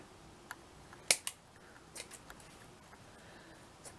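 Scissors making a few quiet snips while cutting material for a Victorian-style wall hanging, short sharp clicks spaced irregularly against a faint, still background.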